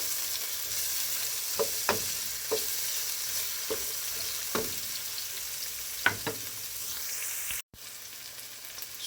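Meat frying in a pan for Bicol Express keeps up a soft, steady sizzle while a utensil scrapes and stirs through it, giving about half a dozen sharp clinks and scrapes at uneven intervals.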